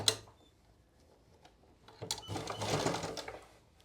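A sewing machine stitches along the edge of a salwar hem, a faint whir early on giving way to a louder, sustained mechanical run in the second half, heard alone without talk.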